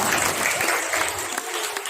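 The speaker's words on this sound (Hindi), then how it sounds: "तालियां बजाते हुए" Audience applause at an Independence Day celebration held by a trust, a steady wash of clapping filling the whole short stretch at close range.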